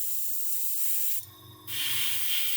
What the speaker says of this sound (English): I've got a blockage in my airbrush,